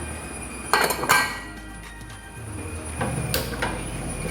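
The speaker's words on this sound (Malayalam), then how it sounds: "അപ്പോൾ ഞാനത് മൂടി വെച്ചിട്ട് അതിന് വെയിറ്റ് ഇട്ട് കൊടുക്കുകയാണ്." A lid and weight go onto a pot of boiling rice gruel, clinking metallically twice in quick succession and then once more, over a steady kitchen hiss.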